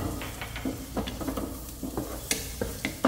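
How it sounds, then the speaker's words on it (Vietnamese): Garlic sizzles in a little leftover cooking oil in a frying pan, with steady crackling and frying and intermittent stirring scrapes and taps of the utensil against the pan. "Sau đó mình sẽ cho tỏi vô, mình phi cho nó vàng thơm lên."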